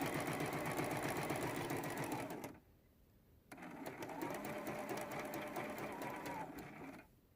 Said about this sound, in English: Sewing these two blocks together. We're going to do this seam in real time.